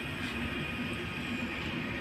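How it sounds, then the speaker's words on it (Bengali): The Amritsar Mail rolls through a station with a steady, continuous rumble and clatter at moderate distance, no talk over it. "অমৃতসর মেল যাচ্ছে"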